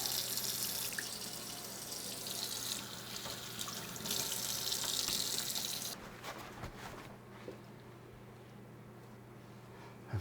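Tap water runs over brined salmon fillets in a sink, a steady close rush that shifts in tone as the flow hits the fish, then drops to a softer trickle.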